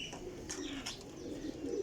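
Soft, low coos from a high flyer pigeon roll on steadily nearby, joined by a few sharp chirps from other birds over a light background hiss.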